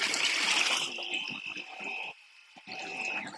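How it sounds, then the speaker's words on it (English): Water drains and trickles out of a handheld pool vacuum cleaner for above-ground pools after it is lifted from the pool, a close, steady splashing flow that thins briefly before resuming. "Let it drain all that water."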